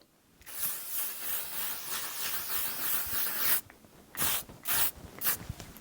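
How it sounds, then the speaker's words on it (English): A long steady hiss of L'Oreal Infallible 3-Second Setting Mist spraying for about three seconds, followed by a few shorter sprays close by. "setting spray. I am going to use the L'Oreal Infallible 3-Second Setting Mist."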